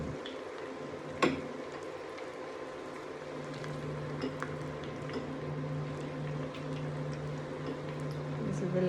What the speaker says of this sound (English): And let them fry for at least a couple of seconds